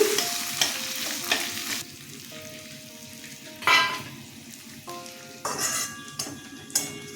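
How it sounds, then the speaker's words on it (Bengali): Gobindobhog rice dry-fries in a pan for a fish-head murighanta, with a close sizzle, bursts of rustling as the grains are stirred and a few spatula clinks on metal, no voices. "চালটা আমি এইভাবে ভেজে নিচ্ছি এখন তুলে নেব ভাজা হয়ে গেছে"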